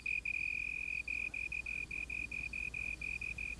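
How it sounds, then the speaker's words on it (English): Slender tree cricket in the African night giving a steady, clear trill broken into regular short pulses, loud and close, with faint background hum. "the sound made by the slender tree cricket that shapes them"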